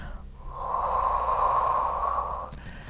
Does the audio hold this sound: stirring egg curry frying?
no